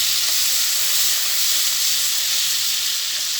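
Garlic sizzles in hot oil in a frying pan that was just used for deep-frying chicken: a steady, close, even hiss that holds for the whole stretch with no voices.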